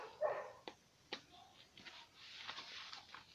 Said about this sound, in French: ce que vous entendez, c'est le chien qui aboie